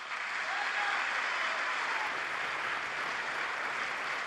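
Audience in the US Congress chamber applauding, a dense, steady wash of clapping that holds at an even level throughout, with no voices standing out.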